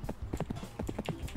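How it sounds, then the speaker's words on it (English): Horse hooves clip-clop steadily around a school in a video game, a quick regular rhythm of close, fairly loud hoof strikes with no talking over them. "we're just riding a horse around the school"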